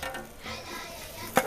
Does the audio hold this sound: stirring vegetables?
yes